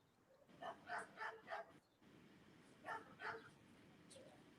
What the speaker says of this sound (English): you can hear a dog barking there